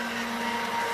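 A CMA L-1X16 undercounter dishwasher runs its sanitizer cycle, a steady close whirring motor drone with a constant whine, no talking.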